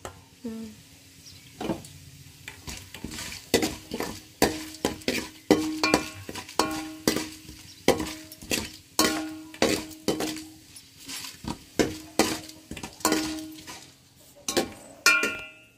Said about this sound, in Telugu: అయినా బాగా ఫ్రై చేసుకోవాలి ఆయిల్లో.